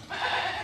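A person mimics a goat's bleat, a single short wavering cry held for under a second, close and fairly loud with no other sounds around it.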